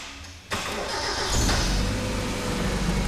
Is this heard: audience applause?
no